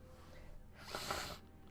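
A single quick, faint sniffle close to the microphone, a short breathy snort through the nose in an otherwise quiet moment.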